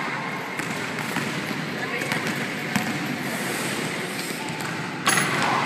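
Basketball bounces on an outdoor court with occasional dull thuds under steady wind-like noise and general outdoor ambience, the bounces faint and spaced apart.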